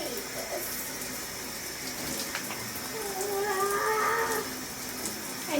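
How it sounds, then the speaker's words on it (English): Cold water runs steadily from a shower in a bathroom, a continuous hiss of spray with a slight swell partway through and no speech. "So excited for that cold shower."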